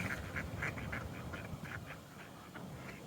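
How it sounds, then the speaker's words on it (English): Ducks quack in a group beside a snowy walkway in Dartmouth, a run of short, moderately close calls over steady outdoor background noise, with no talk. "Oh, look at all the ducks and pigeons. Oh, these are all ducks."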